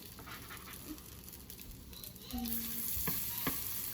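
Flour-and-egg coated patties frying in an oiled skillet, a steady close sizzle that grows louder partway through, with a few clinks and scrapes of a utensil.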